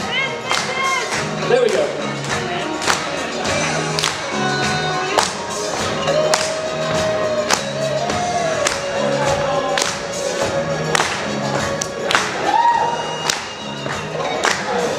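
A group of audience members claps hands together at a dance show, a loose rhythmic patter of hand claps with scattered taps and thuds over background music, with people speaking over it.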